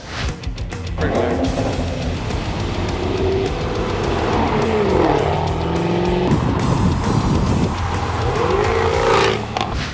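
A loud, throaty car engine revs and roars continuously, rising and falling in pitch as it accelerates nearby, with people talking faintly underneath.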